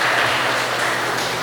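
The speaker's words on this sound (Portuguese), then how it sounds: "Você pode dar uma salva de palmas para o Senhor?" Congregation at a church service clapping for the Lord, a dense steady wash of many hands held at an even level throughout.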